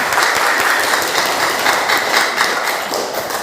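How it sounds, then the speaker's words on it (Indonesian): Classroom applause for a student group at the front, a steady dense wash of clapping from many hands that carries on evenly from start to finish. "kita beri aplaus untuk kelompok 4"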